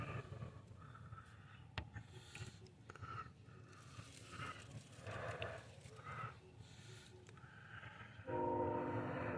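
A train passing in the distance on a snowy day, a low steady rumble with faint horn tones over it, quiet and far off, and the sound grows a little stronger near the end.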